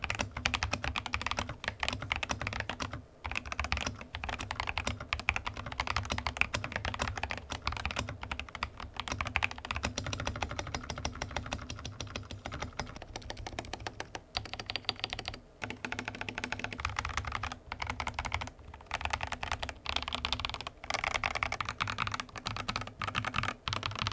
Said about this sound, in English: They're tactile switches, and I really like typing with these.